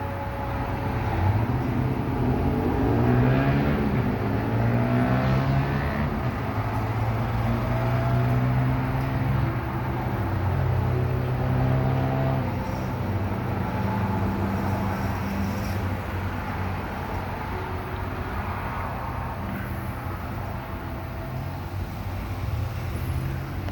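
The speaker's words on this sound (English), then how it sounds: "Include the vehicles and include the traffic and all that." Steady road traffic rumbles along with vehicles passing at a distance, a continuous low wash of engine and tire noise with gentle swells as cars go by, no voices over it.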